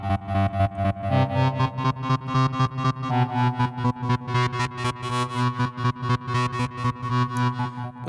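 Phase 84 phase distortion synthesizer on iPad plays gated notes, a bright buzzy tone chopped into rapid rhythmic steps with short silences between pulses, loud and steady throughout.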